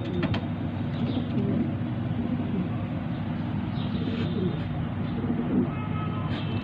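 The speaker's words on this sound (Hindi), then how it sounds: "और गाइस ये कबूतर मैं आपको बाहर छोड़ के दिखा देता हूँ" Pigeons coo softly and repeatedly over a steady low background hum, with faint distant noise.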